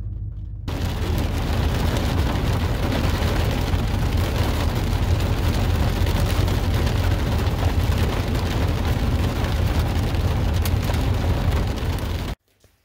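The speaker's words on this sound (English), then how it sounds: "Didn't even get in my pickup and it started raining on me." Steady, loud rain pours down as a storm rolls in over a pickup truck, a dense unbroken hiss lasting nearly the whole stretch before cutting off abruptly at the end.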